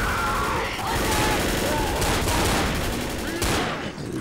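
Gunfire in the co-op zombie shooter Left 4 Dead, rapid overlapping shots crackling continuously and loudly over a dense rumble of game noise, sustained for several seconds before easing off.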